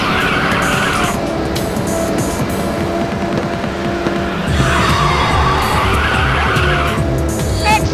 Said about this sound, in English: Excellent drift.